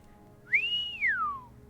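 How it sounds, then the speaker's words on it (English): A character in the video game Morrowind whistles a single clear note that rises, holds, then slides down over about a second, loud and alone against a quiet background. "No whistling."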